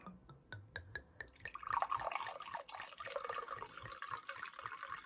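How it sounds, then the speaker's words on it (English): Wine called Evil Green is poured into a glass, starting with a few separate drips that become a steady liquid trickle, close and quiet, with no speech. "So I'm going to crack this open and I'm going to pour a glass and toast you all."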